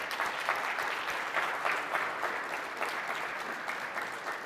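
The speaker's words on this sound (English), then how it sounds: "I want to give all of our partners a big round of applause." Applause from the audience at the Qualcomm Snapdragon Summit, a moderately distant, even wash of many hands clapping that holds steady for several seconds with no talk on top.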